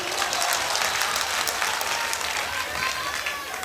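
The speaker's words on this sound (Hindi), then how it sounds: "यार बजाओ ताली।" Audience applause at a Hindi comedy poetry gathering (hasya kavi sammelan), dense steady clapping from a crowd filling the whole stretch, loud and close with some cheering mixed in.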